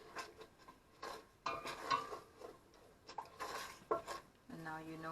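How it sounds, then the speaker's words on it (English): Coconut milk and green curry paste are stirred in a pot for Thai green curry, producing irregular metal clinks and scrapes of a spoon against the pot, fairly quiet and close, with brief louder knocks. "and you stir them a little bit"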